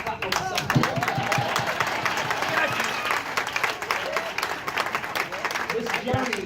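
Crowd applause and clapping at an Atlanta business event, a continuous loud wash of many hands under a speaker's amplified voice.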